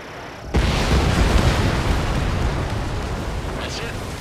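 An enemy bomber is shot down and explodes in the Ace Combat 7 flight game: a sudden loud blast followed by a long, heavy rumbling roar that slowly fades.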